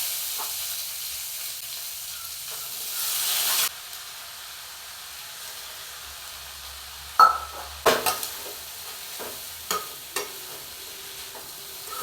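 Mustard seeds and boiled chickpea sundal frying in a pan, a steady hiss that drops away after a few seconds, then sharp scattered clicks and scrapes from stirring, close and without speech.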